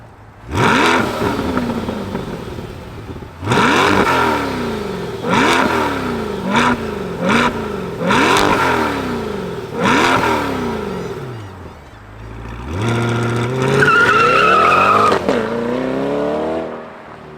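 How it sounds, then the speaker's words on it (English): A Chevrolet C8 Corvette Stingray convertible's V8 revs repeatedly in loud, close bursts, each rising sharply and falling away, with a brief idle dip before a final sustained climb. "let's fire up this V8 and hear what a Stingray sounds like"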